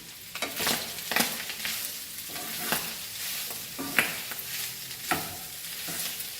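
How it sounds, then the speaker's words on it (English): Onions sizzle and fry in pork fat in a pan with no added oil, a steady crackling hiss broken by scraping stirs and occasional sharp pops. "So here I will start frying my onion."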